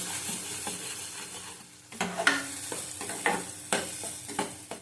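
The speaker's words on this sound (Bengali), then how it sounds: "ভালো করে কষিয়ে নেব" Katla fish with fenugreek being stir-fried in a pan, a steady sizzle broken by scraping, clattering spatula strokes that grow busier and louder in the second half, with no talking.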